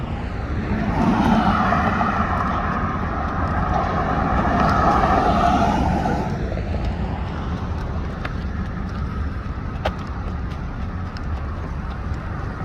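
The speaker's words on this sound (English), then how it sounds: "there's a lot of vehicles coming and going" Road traffic passing on a street, a broad rumbling wash of vehicles that swells over the first six seconds and then settles into a steadier, fainter hum with a few brief clicks.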